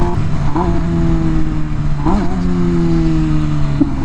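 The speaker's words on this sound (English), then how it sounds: "the downshifts are very, very abrupt and aggressive" MV Agusta Rush motorcycle engine downshifting at speed, loud and close, with sharp rev blips at each abrupt gear change over a steady droning engine note.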